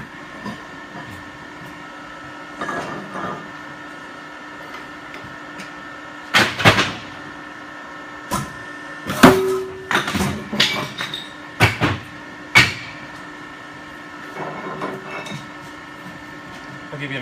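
A CP90 40T B stone recycling machine runs in the USA with a steady mechanical drone, broken by scattered clanks and knocks that grow busier toward the middle.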